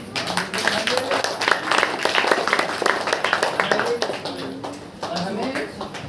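Congregation clapping during a church worship meeting, a steady mass of claps filling the room under continuous speech and voices throughout.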